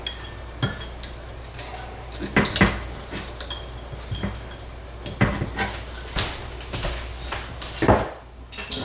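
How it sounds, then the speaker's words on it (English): A metal lid is set onto a cooking pot with several clinks and clatters of cookware amid light kitchen handling, close and moderately loud, with no speech. "Get this lid on it."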